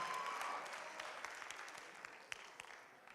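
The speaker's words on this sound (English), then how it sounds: "Let's give her a cheer" An audience at a regional quizzing tournament award ceremony claps in steady, dense applause that slowly thins out, with scattered sharper claps standing out near the end and no clear voices.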